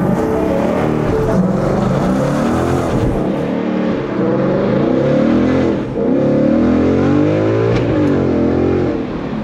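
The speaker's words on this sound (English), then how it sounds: "I don't know if you guys have ever actually played around with the launch control on this car" Turbocharged Mitsubishi Eclipse engine held at high revs on launch control, a loud steady drone with slight rises and dips throughout, close by and with no talking.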